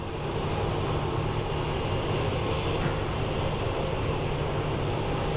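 A Frontier airliner climbs away from the runway at Phoenix Sky Harbor, a steady, broad jet roar with a faint high whine, continuous and unchanging in loudness throughout.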